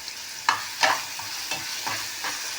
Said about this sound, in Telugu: కొంచెం వేగనిస్తాము.